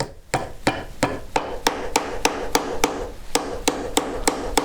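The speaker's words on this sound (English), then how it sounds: "So I'm going to put it on the T-stake and start hammering just over the edge and start curving it around the edge." Rawhide mallet striking sterling silver over a steel T-stake, a steady series of about a dozen sharp, evenly spaced knocks at close range with a faint scraping bed between blows and no talk.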